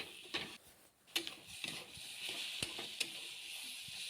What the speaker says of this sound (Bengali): খুব ভালো করে ভেজে নিলাম